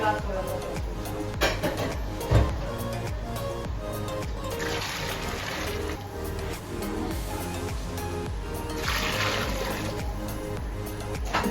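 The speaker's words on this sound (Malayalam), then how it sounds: "ബാക്കി വെള്ളം കൂടെ തിളച്ച വെള്ളം ഇതിലേക്ക് ഒഴിച്ചു കൊടുക്കുകയാണ്" Boiling water pours and splashes steadily into a pot of rice and stock for mutton mandi, a soft continuous trickle with a few light clinks of the pot.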